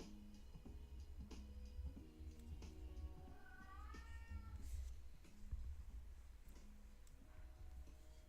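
A house cat meows several times, rising and falling, close by and fairly soft over steady ticking and light indoor background noise, with no one speaking.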